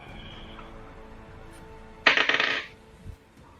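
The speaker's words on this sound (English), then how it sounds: "Let's roll some dice." Dice clatter across a hard tabletop during a tabletop role-playing game session, a brief bright burst of rattling that bounces and settles within about half a second, with quiet room noise around it.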